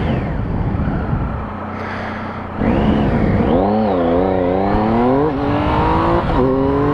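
A 2016 Triumph Speed Triple R motorcycle engine pulls hard while riding, climbing in rising revving sweeps with a brief drop between throttle runs, loud and close against steady wind rush.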